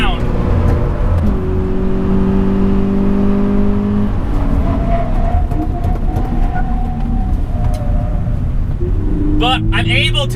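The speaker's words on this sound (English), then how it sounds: "this engine doesn't make a very nice sound" A 2020 Toyota 86 TRD Handling Package's Subaru-based engine drones loudly and steadily from inside the cabin, its pitch rising and settling as the car accelerates, with a brief whooshing burst near the end.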